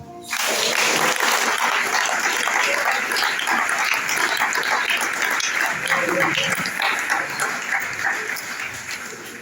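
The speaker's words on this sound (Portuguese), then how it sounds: "aplauda o Senhor" A church congregation breaks into loud, dense applause that rises quickly and holds steady for about nine seconds, with voices cheering and calling out amid the clapping.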